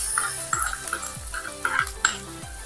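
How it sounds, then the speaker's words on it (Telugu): A tempering of spices sizzles in a pan for ridge gourd chutney while a spoon stirs and scrapes in a steady rhythm of close, regular strokes over the frying hiss. "చూడండి ఇప్పుడైతే పోపు పెట్టేస్తున్నాను."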